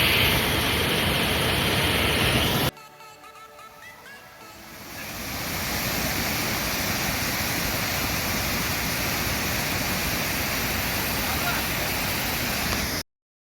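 Strong flow of water at a waterfall in Kozhikode, Kerala: a loud, continuous rushing roar that drops away briefly, then swells back to a steady full-bodied wash.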